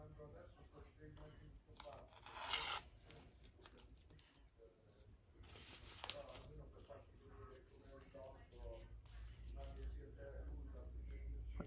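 Paper is torn by hand while making a mini notebook, a short rough rip early on and a briefer one a few seconds later, quiet and close, with faint background noise and murmured sounds.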